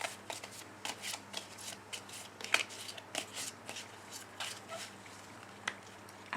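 Oracle cards for a love reading shuffled by hand, a faint, close, continuous run of soft riffling flicks and taps with no voice over it.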